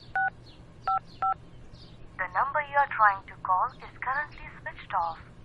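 Three short electronic dial tones beep in quick succession, followed by someone talking in the foreground.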